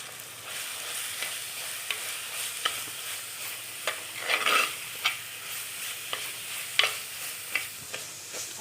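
Crushed spice paste for a Kerala-style kappa and sardine dish hitting hot oil with curry leaves, a soft continuous sizzle broken by regular scraping stirs of a spoon in the pan.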